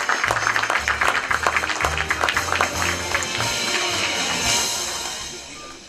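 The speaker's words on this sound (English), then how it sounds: "A huge round of applause, ladies and gentlemen" Applause from an audience at an IT awards ceremony as a company director is called on stage, steady clapping that fades toward the end, with a rhythmic low musical beat underneath.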